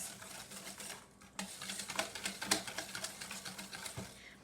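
Rapid, rhythmic tapping and clicking of a whisk beating vegan chocolate cookie batter after vanilla extract is added, a steady close patter of strokes continuing without talk.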